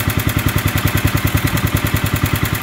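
A single-cylinder Kohler engine in a rare, all-original ATV idles close up with a loud, steady chugging pulse, evenly repeating thumps and clatter and no change in speed.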